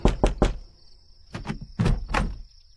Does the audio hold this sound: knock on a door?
yes